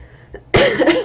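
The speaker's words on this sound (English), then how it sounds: "I do still have like a very slight cough" A single sharp, loud cough close to the microphone, preceded by a brief quiet breath.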